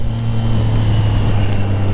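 Triumph Tiger 660 Sport motorcycle being ridden, a steady low engine drone with an even tone throughout, close and continuous with no talking.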